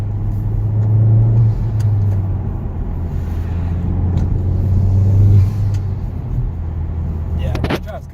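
A 2019 Honda Civic Type R is driven with the windows up, its engine a steady, fairly loud rumble heard from inside the cabin, swelling briefly as it pulls.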